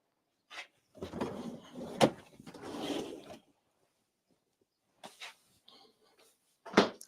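A drawer slides open and shut in a photography prop room, a scraping slide followed by a couple of knocks and bumps, close and moderately loud, with quiet pauses between.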